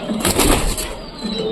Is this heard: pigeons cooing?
yes